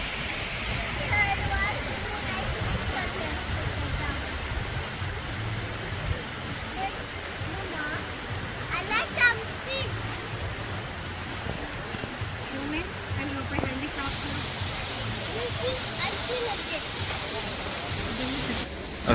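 A river in Alanya, Turkey rushes in a steady broadband wash that holds even throughout, with faint voices now and then beneath the flowing water.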